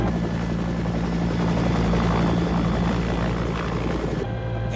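A helicopter flies close by with a loud, continuous rotor and engine roar that holds steady throughout, with no voices over it.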